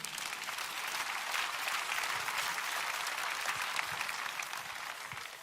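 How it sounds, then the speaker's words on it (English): Sustained applause from a church congregation, steady and dense throughout, a large crowd clapping together without pause. "Let's clap for Jesus Christ."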